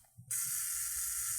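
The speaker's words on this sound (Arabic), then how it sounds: "المفروض ان ده تايمر يعني." An old film camera's self-timer mechanism starts with a small click and then runs as a steady, close, hissing mechanical whir.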